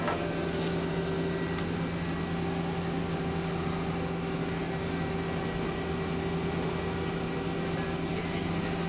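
A 2008 Mazak Quickturn Nexus 250-II CNC lathe spindle turns at about 500 RPM, giving a quiet, even mechanical hum with a faint steady whine and no speech.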